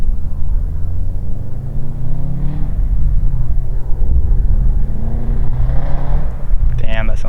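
A Subaru WRX STI fitted with a new Catalyst downpipe idles and revs with a deep, steady exhaust rumble throughout, loud and continuous, with people talking over it.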